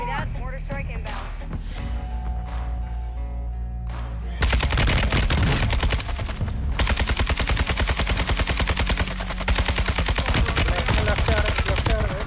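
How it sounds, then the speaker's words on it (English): Mortar strike in the Warzone 2 video game: a tonal lead-in gives way to loud, dense rapid bursts of blasts and gunfire that keep pounding for several seconds, with voices talking underneath. "Mortar strike inbound."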